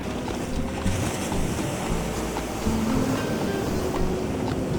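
Waves wash steadily onto a quiet early-morning beach at Agios Gordios, Corfu, Greece, a continuous broadband surf roar with soft swells and light wind.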